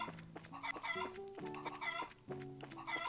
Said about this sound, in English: I think that's just that one chicken.